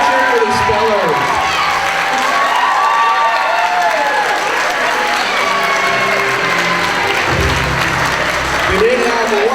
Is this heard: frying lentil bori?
no